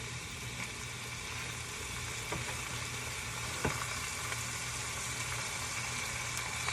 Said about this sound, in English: It's that sizzling sound that you want to hear.